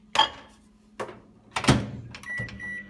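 A microwave oven melting 115 grams of butter for chocolate chip cookies: a door thunks, buttons click and beep, and a low steady hum from the running oven follows, close and fairly quiet with no speech.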